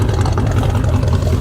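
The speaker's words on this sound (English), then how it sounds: "The exhaust is nice." Exhaust rumble from a 1979 Ford F-250 pickup engine with a mild Crane cam, a steady, loud low-pitched idle throb close by with no talk over it.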